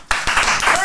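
An audience breaks into brief, close clapping after a short pause, a burst of hand claps lasting under a second.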